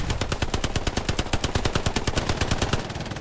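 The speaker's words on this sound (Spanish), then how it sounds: "Disparad, disparad, que suena carne siempre." Rapid automatic gunfire from the World War II shooter game Hell Let Loose rattles in a continuous, dense burst of loud sharp shots throughout.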